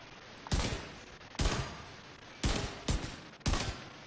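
Pistol shots in The Division 2 crack out one at a time, five loud, close reports spaced unevenly about a second apart, each followed by a short fading tail.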